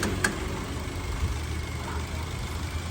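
A 2012 Daihatsu Terios TX with a VVTi fuel-injected engine idles smoothly, a quiet, steady low hum held evenly with no talking.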